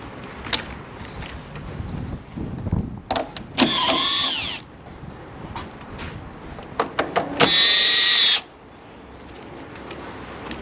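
On a Ford Taurus during radiator replacement, a power tool whirs loose 10mm bolts in two bursts of about a second each, with metallic clicks and clanks of handling around them.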